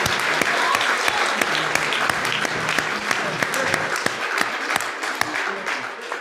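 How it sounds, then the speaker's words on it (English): Church congregation at a Spiritual Israel Church meeting breaks into sustained, dense applause, a steady wash of many hands clapping together at a constant level with no pauses. "Let's give them a round of applause."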